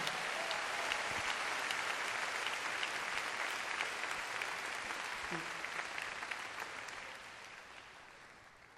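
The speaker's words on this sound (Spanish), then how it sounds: "Dale un aplauso fuerte al Señor si entiendes eso" A church congregation applauds steadily through a sermon break, a dense, sustained wash of clapping hands that fills the space and fades slightly toward the end, with no speech over it.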